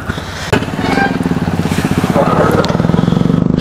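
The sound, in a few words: motorcycle riding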